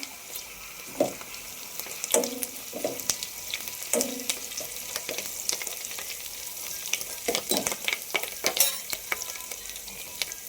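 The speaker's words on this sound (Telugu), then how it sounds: "మన దగ్గర ఉన్న కరేపాకు ఆ విధంగా వేసుకోవాలి" Curry leaves and dried red chillies fry in hot oil, giving a steady crackling sizzle with sharp spitting pops and occasional scraping stirs of a utensil, heard close with no talk.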